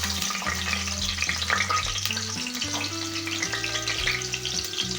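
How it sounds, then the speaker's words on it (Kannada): Masala frying in a pan for mutton sambar, a steady sizzle with stirring scrapes. A low droning tone in the background keeps shifting in pitch. "ಸ್ವಲ್ಪ ಫ್ರೈ ಆಗಲಿ ಹಸಿ ವಾಸನೆ ಹೋಗೋವರೆಗೂ ಸ್ವಲ್ಪ ಫ್ರೈ ಮಾಡ್ಕೋಬೇಕು"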